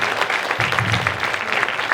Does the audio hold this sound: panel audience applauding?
yes